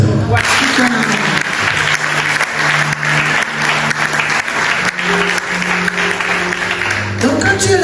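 A church congregation applauding during a sermon, loud sustained clapping from a large crowd that fills the room, with a few voices and some music tones mixed in.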